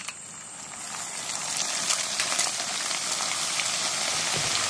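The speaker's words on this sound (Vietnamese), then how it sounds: "Đợi dầu nóng già rồi mình bỏ cơm vào chiên nè." Dried leftover rice dropped into very hot oil gives a steady, bright crackling sizzle that swells after the first couple of seconds and holds loud and close.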